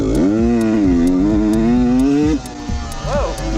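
Beta RR125 two-stroke enduro motorcycle engine while riding, a close, loud buzzing drone that rises and holds steady before easing off, with a brief rev blip near the end.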